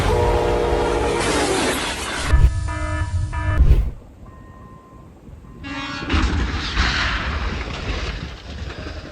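A train colliding with a truck in the Czech Republic: loud rumbling rail noise with a long tonal horn blast, abrupt cuts, a quieter stretch with a fainter horn tone, then heavy rumbling again.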